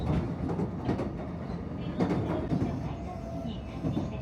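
Train wheels rumble and clack over rail joints in a steady rhythm, heard from inside a moving carriage at moderate volume.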